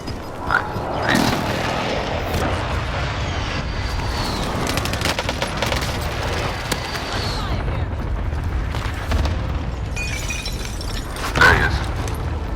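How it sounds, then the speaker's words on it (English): Cluster strike explosions in Call of Duty Warzone land as a run of booms and rapid blasts over several seconds, mixed with gunfire and game noise, with a voice heard at times. "Allied cluster strike inbound."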